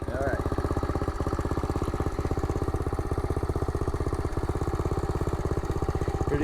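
A small Honda CRF50 dirt bike engine runs steadily close by, a continuous fast putter that holds an even rhythm throughout with no change in pace.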